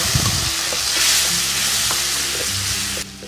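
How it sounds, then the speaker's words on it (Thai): Shrimp paste chili sauce stir-frying in a little oil in a pan, a loud steady close sizzle with spatula scrapes, cutting off sharply near the end. "ใส่น้ำมันนิดเดียวพอนะคะ แล้วก็ใส่น้ำพริกกะปิของเราลงไป"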